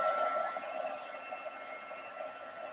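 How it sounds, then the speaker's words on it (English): A heat tool melts gold embossing powder in a craft setting, giving a faint, steady fan-like whir and airy hiss that stays quiet and even throughout. "just heat that up a minute, and then I'm just going to melt that powder"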